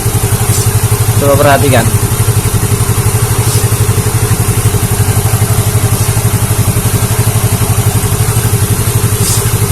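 A Yamaha Mio J scooter with a stuttering, bogging fault runs close by with a steady idle, then revs up briefly in a single rising burst before settling back to idle, while someone talks over it.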